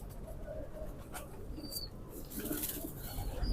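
Royal Teddy and Rampuri cross pigeon cooing softly and repeatedly at close range, low murmuring coos with faint rustling and background ambience.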